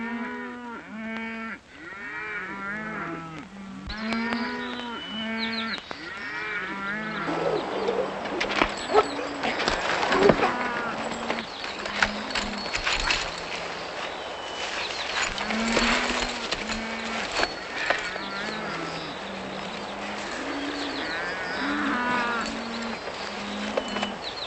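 A cattle herd moos repeatedly on the open range in a Western film, with deep overlapping calls rising and falling throughout, loud and close, alongside some bird cooing and faint background noise.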